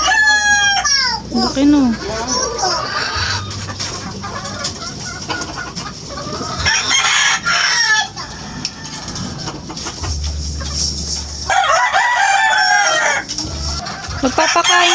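Pet chickens clucking densely nearby while a rooster crows several times, loud and close, with a person speaking briefly among the birds.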